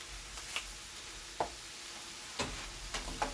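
Shrimp fried rice with red chili powder being stirred in a pan, faint intermittent scraping clicks of a utensil against the pan over a quiet background sizzle.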